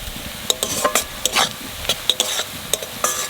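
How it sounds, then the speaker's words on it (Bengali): Sliced onions frying in oil in a pan for a chicken curry, a spatula stirring in quick scraping strokes over a continuous sizzle, close and fairly loud with no talking. "পেঁয়াজ ভাজা হয়ে গেছে,"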